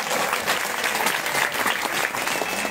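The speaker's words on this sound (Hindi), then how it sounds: "उनको भी स्वागत करो ताली बजाओ" A crowd at a Bhagwat katha gathering in Noida claps together to welcome women who carried kalash pots, an even, sustained burst of applause lasting a few seconds.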